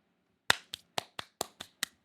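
Seven sharp claps ring out alone in a quick, slightly uneven rhythm, close and fairly loud, each with a brief roomy decay, the first hit the strongest.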